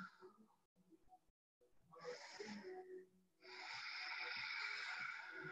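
Deep breathing during a high lunge stretch, with slow audible inhales and exhales separated by brief pauses, close and fairly faint, with a soft voice near the start.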